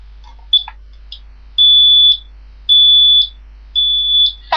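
A brand new smoke alarm sounds close and loud: a few short chirps, then three long piercing high beeps of about half a second each, separated by brief silences.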